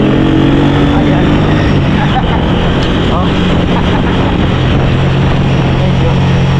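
A motorcycle ride along a bumpy, windy rural road on Guimaras, a loud, constant engine drone mixed with buffeting wind rumble close to the rider, with talk faintly underneath.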